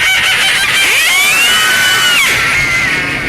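Passengers on an amphibious duck tour vehicle quacking loudly together like ducks, a dense, continuous chorus of nasal imitation calls that rises and falls, recorded up close. Voices imitate the sound.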